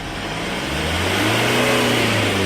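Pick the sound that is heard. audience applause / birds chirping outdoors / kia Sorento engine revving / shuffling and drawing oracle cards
kia Sorento engine revving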